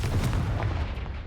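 Confringo blasting spell from Hogwarts Legacy going off as a loud, sustained boom with a deep rumbling low end and crackling bursts, filling the moment with no talk.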